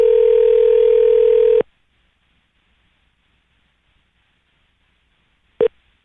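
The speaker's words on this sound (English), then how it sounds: "Answer the phone, Sophia." Unanswered call on a phone line: a loud steady ring tone holds for about a second and a half, then silence, then a short second burst of the same tone near the end.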